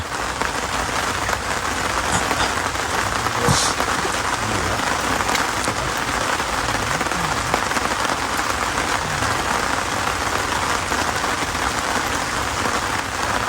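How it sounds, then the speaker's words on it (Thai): Rain falls steadily during a Nile tilapia fishing trip at a camp, a loud dense unbroken hiss of drops on surfaces lasting throughout, with no voices. "ฝนตก"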